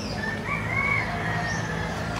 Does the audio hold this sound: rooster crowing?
yes